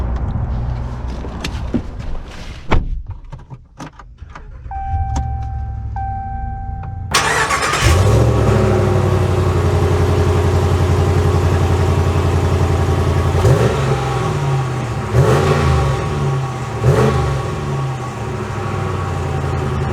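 A 2022 Ram 1500 Warlock pickup truck starts up after a few clicks and thumps, then its engine settles into a loud, steady rumble close by, with a couple of revs lifting the pitch as it pulls away.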